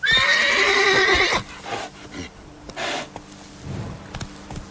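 Roach the horse in Witcher 3 lets out a loud, close whinny, followed by snorts and scattered hoof clops that fade and sputter afterward.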